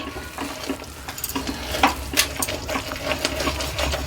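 A spoon stirring a cashew and coconut mixture with cardamom powder in a pan on the stove, giving soft repeated scrapes and clinks over a low steady sizzle, close by.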